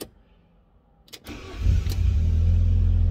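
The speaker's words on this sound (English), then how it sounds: "Let's have a listen to the engine now." A Fiat Barchetta engine, after sitting in a garage for years, cranks with a couple of sharp clicks, then catches and settles into a loud, steady low running rumble.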